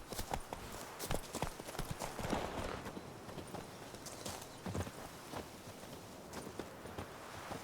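Hooves of Roach, a horse in The Witcher 3, clip-clopping on hard ground in a steady walking rhythm of sharp, close knocks, continuing throughout over a soft ambient bed.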